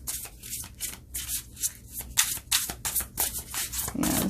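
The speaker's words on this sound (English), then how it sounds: "As you can hear how it shuffles. It just shuffles like so, like butter." A nice new tarot deck, This Might Hurt Tarot, is shuffled by hand in a steady run of soft, close riffling and rubbing bursts of card edges sliding together, with no talking.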